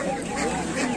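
Ducks or geese quacking and honking at a Kolkata pet market, a short burst of nasal calls close by with people talking underneath.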